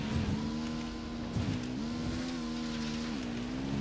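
Motorbike engine in the video game Ghost Recon, a steady droning hum that rises and dips in pitch as the rider shifts speed, heard continuously and fairly close with no talk.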